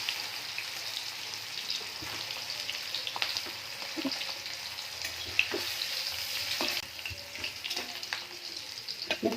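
Potatoes fry steadily in hot oil in a kadai, a dense, continuous sizzle like light rain with occasional pops and a few soft stirring knocks, close and unbroken for the whole stretch.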